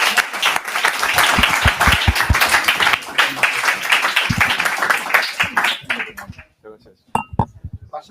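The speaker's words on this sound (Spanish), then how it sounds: "después de un aplauso a nuestro ponente" Audience applause for a speaker at a Spanish-language panel debate on psychiatric drugs, dense clapping with clinking glass and dishes mixed in, voices murmuring throughout, fading into scattered claps and clinks toward the end.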